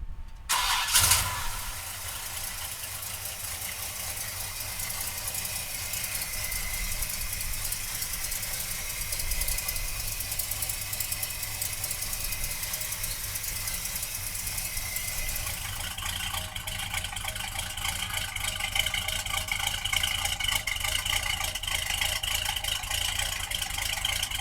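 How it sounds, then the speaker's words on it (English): A 1970 Chevrolet Chevelle convertible's 454 V8 cranks and fires near the start, then settles into a steady, loud idle that carries on alone, its rumble growing slightly busier toward the end. "So come on up and we'll fire this 454 up for you right now."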